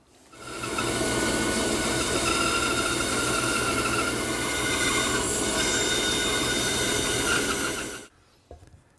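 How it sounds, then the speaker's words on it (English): A bandsaw trims a wooden tenon, giving a loud, steady mechanical whir with a squealing edge that runs for about seven seconds before cutting off abruptly, followed by a faint knock. "remove a little bit of this tenon, and I'll do that at the bandsaw"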